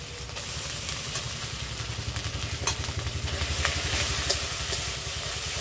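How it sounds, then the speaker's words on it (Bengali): Onion paste frying in hot oil, with a steady sizzling crackle and a low, rhythmic bubbling pulse beneath, close by, with no talking. "আমি এই তেলের মধ্যে পেঁয়াজ বাটা দিয়ে দেবো"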